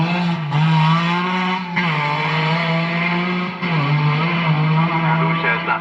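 A Lancia Stratos rally car on a forest stage of the 1978 RAC Rally drives past with a loud, continuous, rasping engine note. The pitch rises and falls through gear changes as it passes close by.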